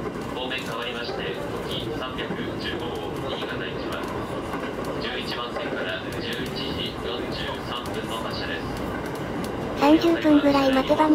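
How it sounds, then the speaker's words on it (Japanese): A Shinkansen bullet train draws into a station on the Joetsu line, a steady low rumble building beneath a faint background with a brief brighter rise near the end, heard from the platform. "夢の超特急が近づいてきたわよ"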